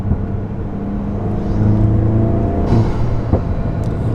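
A Volkswagen Mk8 GTI fitted with an iE intake and stock exhaust, its engine droning steadily and building in revs, with a brief sharper burst near the end and no talking.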